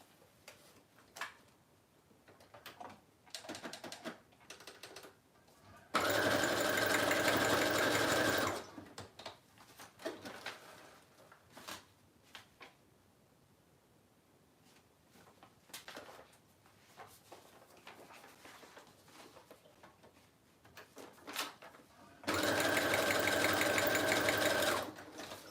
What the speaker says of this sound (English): then just sew this on just like a belly band